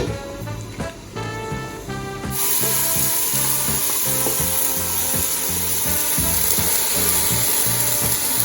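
Butter browning in a pan for a Jamaican-style cow foot and bean stew gives a loud, steady sizzle that swells in after a brief quieter start with some tonal background sound.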